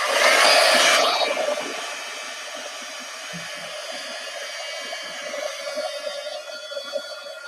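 A hair dryer drying paint blows with a loud, steady rush at the start, then keeps whirring more softly and continuously in the background.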